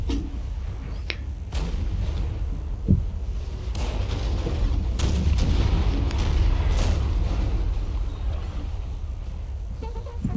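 Cannon fire in the Napoleonic battle game Napoleon: Total War sounds as scattered deep booms and sharp cracks over a steady low rumble of battle, with no talk.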